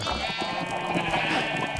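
Sheep bleating in the Minecraft video game, a steady continuous bleat that carries through the whole moment at moderate loudness, close and alone without any talk.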